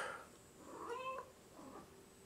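A house cat gives a couple of soft, drawn-out meows at close range in a quiet indoor room, with no talking.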